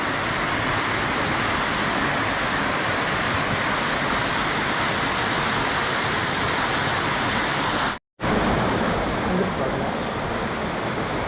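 Water pours steadily at Rana Jilleda waterfall in Andhra Pradesh, a loud, continuous broadband rush close by, briefly cut off by an edit, with someone talking under the roar.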